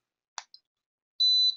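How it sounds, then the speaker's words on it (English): A light meter gives a short electronic beep after a couple of faint clicks from its side actuator button, the tone steady and close, then cutting off. "I just hit the actuator button on the side, wait for the beep"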